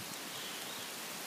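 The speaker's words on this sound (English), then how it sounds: "let the rain die down a little bit" Steady rain falls in a cemetery at night during a thunderstorm, a dense, even hiss that fills the moment without pauses, heard alone.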